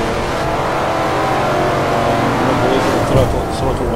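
Plymouth Cuda engine from Forza Motorsport 4 at Sedona Speedway, a steady droning roar held under throttle with slight lifts, mixed with someone talking over it throughout.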